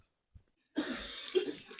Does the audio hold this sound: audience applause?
no